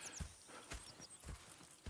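Horse hooves clip-clop in a steady walking rhythm inside the Red Dead Redemption video game, soft and fairly distant, with faint ambient game sound and no voices.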